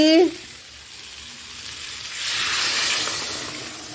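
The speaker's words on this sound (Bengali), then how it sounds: "এবার জল দিয়ে দিচ্ছি" Water is poured into a pan of sizzling tangra fish curry, the hot oil hissing and spitting and then swelling into a louder burst of steam midway. A brief voice is heard at the start.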